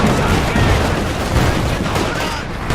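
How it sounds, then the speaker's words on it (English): A Company of Heroes 2 firefight between Soviet and German troops, dense, loud overlapping gunfire with rattling bursts and booms running without a break. "Right now there's a big firefight between Soviet forces, German troops"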